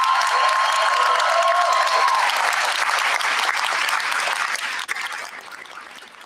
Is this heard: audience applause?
yes